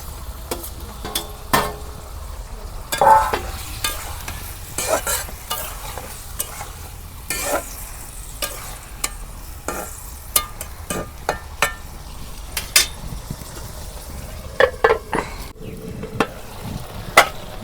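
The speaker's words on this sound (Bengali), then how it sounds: "মশলা দিয়ে আমি পটলগুলো কষে নিতেছি।" Pointed gourd and potato pieces frying with spices in a pan while being stirred, with frequent sharp scraping and clacking strokes over a faint background sizzle, close up and with no voices.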